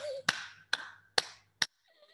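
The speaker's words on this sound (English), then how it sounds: "Clap your hands to Cheer" Hands clap in a secondary school classroom to cheer a student: four crisp, evenly spaced claps close by, each sharp and separate, with quiet between them and a faint trailing tone at the end.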